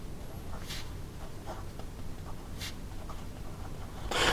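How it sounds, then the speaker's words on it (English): Montblanc Walt Disney fountain pen with a fine 14k gold nib writing on paper, soft scratchy strokes in short bursts, close and quiet against a faint background hiss. "Here we go with the writing sample for the Montblanc Walt Disney."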